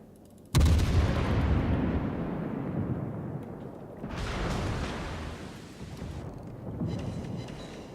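Naval gunfire from warships in the World of Warships video game: a sudden heavy boom followed by a long rumbling decay, then two further, softer distant rumbles.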